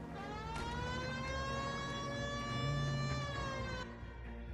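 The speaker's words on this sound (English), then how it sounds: "Hit the siren." A police car siren in the video game L.A. Noire wails with a sustained, rising-and-holding harmonic tone over engine rumble, then cuts off abruptly near the end.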